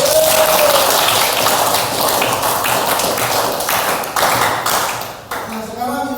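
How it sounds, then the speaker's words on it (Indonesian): Students clapping together in a classroom, a dense, steady patter of many hands that carries on for several seconds with a voice briefly audible over it, thinning toward the end. "tepuk tangan untuk semuanya."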